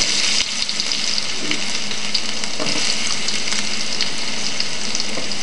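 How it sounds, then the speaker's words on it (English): Quartered potatoes fry in hot oil in a skillet, giving a loud, continuous crackling sizzle with occasional pops, steady from start to finish with no talking. "I'm going to add these into my oil here."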